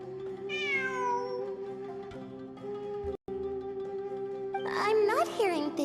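A cat meows in a video game, one bright meow near the start and a burst of cat cries toward the end, all over steady, sustained game music.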